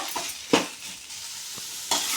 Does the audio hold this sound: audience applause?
no